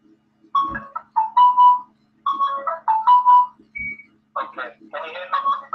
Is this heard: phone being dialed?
yes